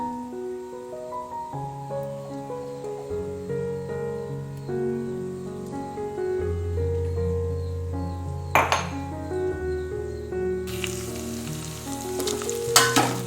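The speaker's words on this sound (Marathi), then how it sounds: "लसूण मिरची आणि आलं आता आपण फोडणीवर टाकूया" Coarsely ground garlic, green chili and ginger paste sizzling in hot oil for a tempering while making prawn masala rice, a steady frying hiss with occasional utensil clinks, under background music.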